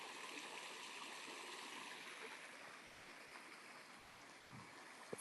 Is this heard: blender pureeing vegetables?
no